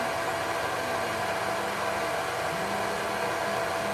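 A steady, loud whooshing pet grooming dryer hum runs continuously with no pauses during a Persian cat's grooming, close to the listener, with no voices heard.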